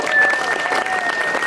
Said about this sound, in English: So first I would like to begin with a round of applause.